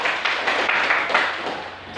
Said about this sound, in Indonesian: kita kasih aplaus kepada Elsa